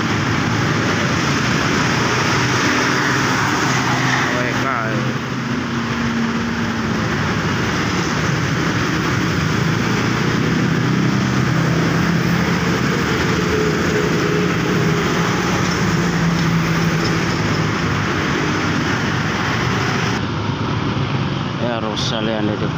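An old Rosalia Indah bus pulls away from a departure point in the morning, its engine rumbling steadily under a broad wash of traffic and station noise while people talk nearby throughout.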